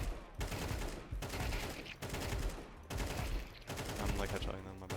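Gunfire in the shooter CS2, bursts of rapid shots in four separate volleys, each separated by a brief pause, loud and close.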